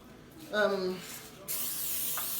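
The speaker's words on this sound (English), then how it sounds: "now we'll use the non-stick spray" A voice speaks briefly, then a steady spray of non-stick cooking spray onto a tray hisses for about a second.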